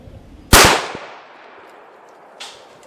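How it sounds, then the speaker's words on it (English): A .204 Ruger rifle firing a 32-grain round outdoors at about seven yards over a chronograph: one sharp, loud crack with a decaying echo, followed by a fainter distant report about two seconds later. "I'm gonna shoot three of the 32 grainers and then three of the 40 grainers, and we'll see the speed on the chronograph here"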